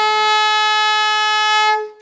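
Alto saxophone sustaining a single high F natural, a steady bright tone with rich harmonics held for nearly two seconds before fading out, played alone.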